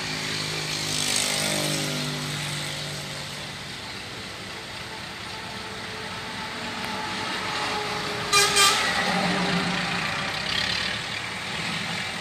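A small farm tractor towing a little trailer drives along on a rural property, its engine a steady broad rumble that swells and fades at moderate distance, with a brief higher-pitched squeal partway through and no talking.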